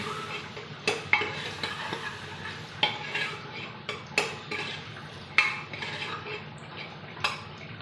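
A spoon stirs mixed ingredients and spices in a cooking pot, scraping and knocking against the metal in an irregular rhythm close by over a faint sizzle.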